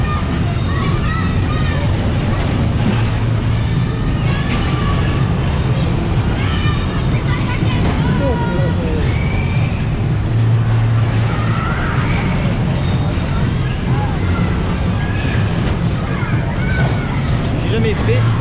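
Bumper cars at a children's funfair in Toulouse rumble and scrape continuously under a crowded babble of excited voices, with steady motor hum and occasional squeals and thuds from collisions, loud and close throughout.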